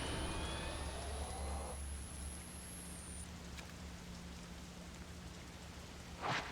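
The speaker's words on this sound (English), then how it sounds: "The sound of raindrops." Raindrops falling in the horror video game Project Zero 5: Maiden of Black Water, a steady soft patter of rain with a low ambient hum, ending in a brief louder splash or drip near the close.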